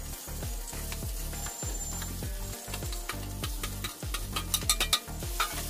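Potatoes fry with curry leaves in a pan, a continuous close sizzle broken by regular scraping and clattering stirring strokes, with a few sharper spatters toward the end.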